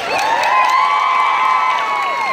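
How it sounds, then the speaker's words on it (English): A convention crowd at a live cold-read panel cheers loudly, with sustained shouts and whoops dominating over faint applause, steady and close for the whole stretch. "Give her a big round of applause."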